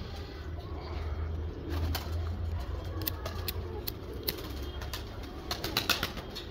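Pigeons coo in low, soft murmurs at a moderate distance, with faint wing flutters and scattered sharp clicks against a quiet outdoor background.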